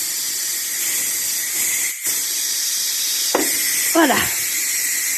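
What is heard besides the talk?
steam pressure release from Ninja Foodi MAX valve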